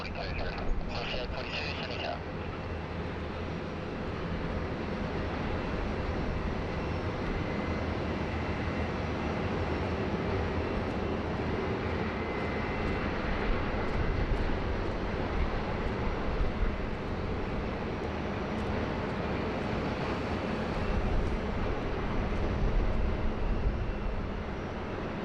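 A Fiji Airways airliner landing on runway 07 at Sydney Airport, its engines a broad, steady roar that rises slightly toward the end, with people talking over it throughout.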